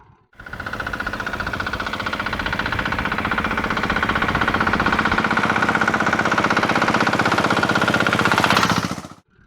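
A Royal Enfield motorcycle engine runs hard with a steady, loud, thumping rhythm like an old tugboat, holding a continuous chugging drone from start to finish with no talk.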